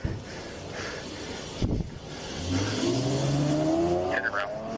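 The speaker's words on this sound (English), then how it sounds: "She's still able to get in the car and start it and drive off." A car engine revs and pulls away after being started by a wounded driver during a police shooting in Nashville, rising in pitch as it accelerates, with a brief thump near the middle and a faint voice over the steady roar.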